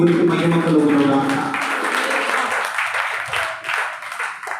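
Congregation clapping in a church during a Sunday sermon, a steady broadband patter of many hands that fades gradually, with a voice talking over the start.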